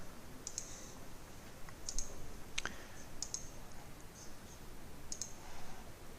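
Computer keys pressed on a desk keyboard during editing work, heard as a few sparse, light clicks spaced irregularly over a quiet background, with no talking.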